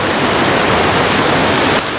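Waterfall at Three Shires Head in the Peak District, a loud, steady rushing roar of falling water filling the whole clip without pause, no voices.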